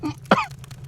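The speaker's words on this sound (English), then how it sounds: "I brought you something for that cough" A character in the PC game Deus Ex gives a single short, rough cough, like a throat clearing, close and fairly loud, with a faint voice just before it and quiet game ambience after.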